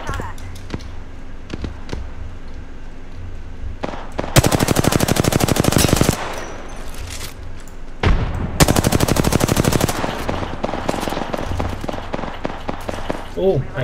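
Gunfire in the Apex Legends battle royale game: two loud, sustained bursts of rapid automatic fire separated by a short gap, with scattered single shots and game noise around them, and a player talking over the action.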